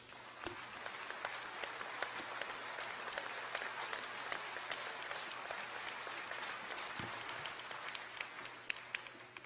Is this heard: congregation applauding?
yes